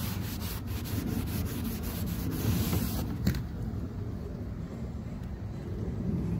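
Rapid back-and-forth rubbing of a cloth wiping WD-40 off a car headlight, steady and close for about three seconds, then a quieter stretch of faint handling.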